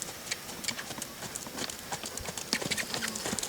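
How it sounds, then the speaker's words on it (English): A horse's hooves thud in a quick, uneven rhythm on the ground, cantering briefly at a moderate distance, with faint voices in the background. "see if we can get him to canter for just a stride or two"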